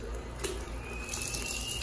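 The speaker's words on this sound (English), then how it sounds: "The water does come out hot" Tap water runs steadily into a sink in a dirty convenience-store restroom, a continuous close splashing hiss with no one speaking.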